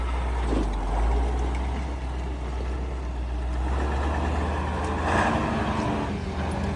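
Bizon combine harvester engine idling and revving loudly and steadily up close, a deep continuous rumble that swells slightly near the end.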